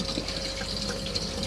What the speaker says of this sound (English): Once you put the pump on, you get a pressurised flow like so.